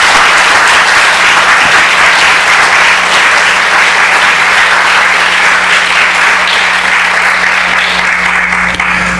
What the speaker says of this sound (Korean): 우리 목사님 일어서실 적에 큰 박수로 감사해 주시기 부탁드립니다.